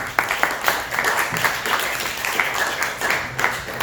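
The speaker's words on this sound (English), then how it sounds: "Can we get a round of applause, please?" An audience at a KosherBoyz class claps in a continuous round of applause, a thick, evenly sustained patter of many hands with a few sharper accents, no voices over it.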